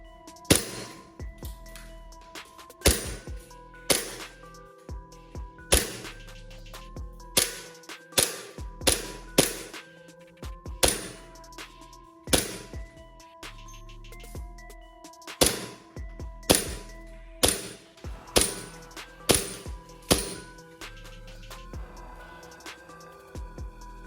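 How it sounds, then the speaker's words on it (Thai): A Glock gas-powered BB pistol fires about twenty sharp, snappy shots in irregular bursts, each crack followed by a metallic clang of pellets striking a target, close and fairly loud with no talking. "ไม่ค่อยได้ยิงเท่าไหร่เนาะอาจจะยิงโดนบ้างไม่โดนบ้างนะ แต่ว่ายิงดีขึ้นหลังจากใส่กิบหลังเข้าไปนะครับ"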